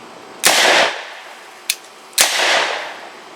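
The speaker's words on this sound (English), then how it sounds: "It's a double." A Czech SA24/SA26 semi-auto carbine chambered in 7.62 Tokarev fires two sharp, loud cracks with ringing tails, a brief faint click between them.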